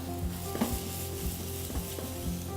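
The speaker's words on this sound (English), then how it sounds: "So our little chopped garlic, and we're gonna sprinkle it around." Chopped garlic sizzles in a hot pan with mushrooms for a smoked mushroom sauce, a steady close frying hiss with soft repeated stirring knocks, and no voices.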